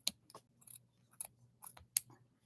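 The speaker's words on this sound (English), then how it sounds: "Try and bring out my big upholstery scissors." Big upholstery scissors make a series of sharp, crisp snips, about seven irregular cuts at close range in an otherwise quiet room.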